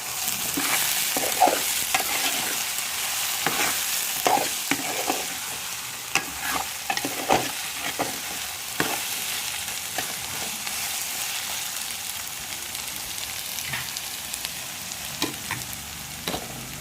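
Drumstick pieces and chopped onion fry in a pan while being stirred, a continuous sizzle broken by frequent sharp scraping and clinking spoon strokes, close and steady with no talking.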